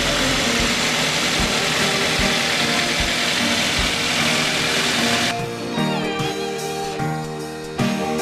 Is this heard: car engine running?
yes